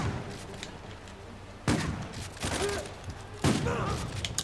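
Gunfire bursts in Uncharted 4: sharp volleys of shots crack out at irregular intervals against a quiet backdrop, with a loud final blast at the end.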